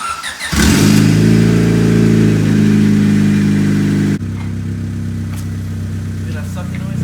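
Blown clutch in a car being revved hard, a loud sustained engine drone with a strained, sucking quality that drops in pitch and level partway through, while people talk over it.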